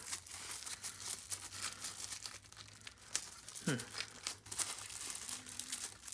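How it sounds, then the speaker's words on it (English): Plastic wrapping is pulled off a new water power washer while unboxing it, giving close, loud crinkling and rustling with a few sharp tearing snaps and a brief vocal sound in the middle. "let's go ahead and take off this plastic here"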